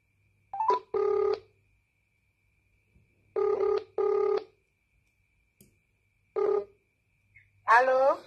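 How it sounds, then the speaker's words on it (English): A telephone rings in several short, spaced electronic bursts, some paired, against a quiet background, with a brief voice near the end. "It's going to ring."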